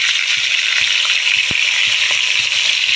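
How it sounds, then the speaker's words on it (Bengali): Turmeric- and salt-coated prawns sizzle in hot oil in a pan, a loud, continuous crackling fry with small pops and occasional light knocks as they are added and moved, and no voices. "তো তেল গরম হয়ে গিয়েছে, চিংড়িগুলো দিয়ে দেবো একটা একটা করে।"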